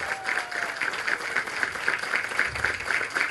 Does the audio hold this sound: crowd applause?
yes